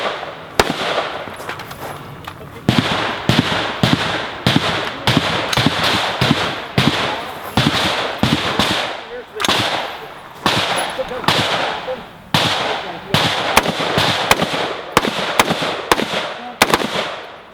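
Gunfire at a tactical shooting competition: many sharp, loud shots in irregular bursts and quick strings, with faint voices underneath.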